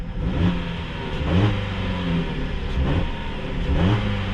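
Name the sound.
2021 Jeep Compass 4-cylinder engine running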